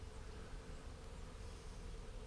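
A honey bee swarm of around ten thousand bees settling into a tree, producing a steady, dense buzzing drone that fills the air close by, continuous and unbroken with no voices.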